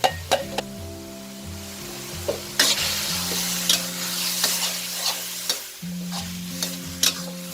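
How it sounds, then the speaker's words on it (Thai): Minced pork stir-fried in a pan with blended chili and tomato paste for a Thai tomato chili dip, with a steady sizzle, repeated scraping stirs and spatula clinks close up, and no talking. "เมื่อเรารวนหมูนอกจากสุกค่ะ ให้เราใส่ เครื่องที่เราปั่นไว้แล้วนะคุไปเลยค่"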